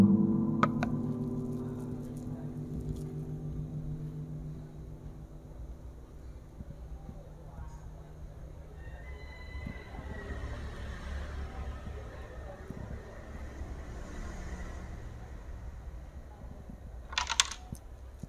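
A gentle knock on the wooden body of an acoustic guitar, strings not played, rings out as a low resonant tone that decays slowly over many seconds, with faint room noise and a brief rattle near the end.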